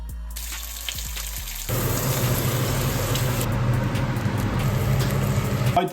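An omelette of three eggs, bacon, spinach and cheese frying in a pan, a close, steady crackling sizzle that jumps louder partway through and continues without pause.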